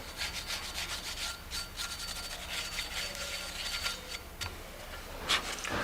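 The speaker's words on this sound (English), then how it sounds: "just give it a little light scuff to make sure we get any corrosion or any dirt that might be there" Light abrasive scuffing of a Victory motorcycle's wheel hub and pulley surfaces to clear corrosion and dirt, close rhythmic rubbing and rasping strokes with small ticks, steady and fairly quiet with no talk.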